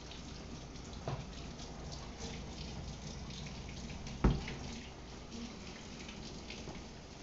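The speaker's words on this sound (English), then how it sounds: "Let me get my hands and rinse." Hands rinsed under a running kitchen tap, a steady soft water hiss with a brief louder splash midway, no voices.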